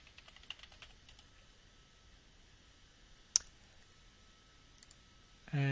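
Quiet computer keyboard typing as a username and password are entered, a brief burst of soft key clicks near the start, then one sharp louder click and a few faint taps in a hushed room.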